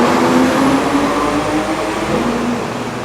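A car passes close by on a busy Hong Kong street, a steady loud engine rumble and road roar that holds for a few seconds, then eases slightly, with no voices.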